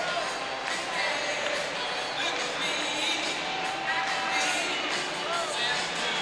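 Sellout crowd at Game 6 of the 1992 World Series between Toronto and Atlanta, a steady, distant murmur and cheering of a packed ballpark with occasional whoops.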